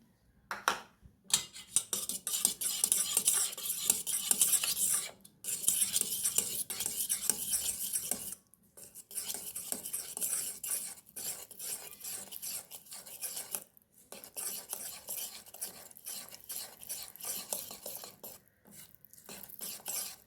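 Spatula folding flour into eggless plum cake batter in a bowl, repeated soft scraping strokes in bursts separated by brief pauses, close and moderately loud, with no voices.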